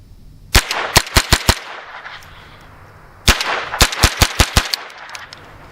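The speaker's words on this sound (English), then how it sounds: "let's just go ahead and shoot some of those Winchester white box rounds and see what happens" Rapid .22LR gunshots fired from an AR pistol fitted with a CMMG conversion kit, Winchester white box 36 grain copper plated hollow point rounds, sharp loud cracks in two quick bursts of about five shots each, separated by a short pause.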